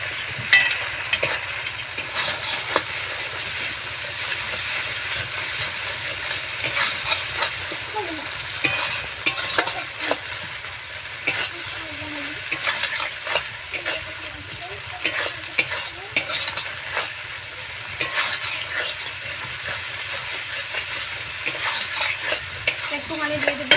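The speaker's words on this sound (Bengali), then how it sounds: "এবার আমি মশলাটা দিয়ে কষিয়ে নেবো" Ginger, garlic and cumin paste with dried red chilli, tomato and onion fries and is stirred in a pan for a small mixed-fish curry, a steady close sizzle broken by frequent scraping stirs throughout.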